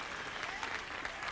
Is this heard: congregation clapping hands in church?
yes